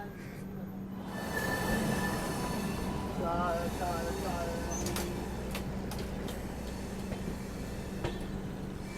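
A train rolls toward the outer approach at Kanpur with an ALCO diesel locomotive, a steady low rumble and grinding with occasional sharp metallic squeals and clanks, voices faintly mixed in.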